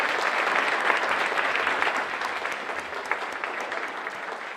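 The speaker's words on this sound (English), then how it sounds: "Let's give them a round of applause." An audience at a gerontology conference applauds the orchestra, with many hands clapping in a steady, full roar that holds evenly throughout.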